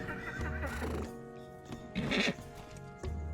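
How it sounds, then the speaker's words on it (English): Horse whinnying in The Lord of the Rings Online game audio: a short neigh with a louder burst near the middle, over steady game ambience, no talk. "you're gonna have to get off your horse for this"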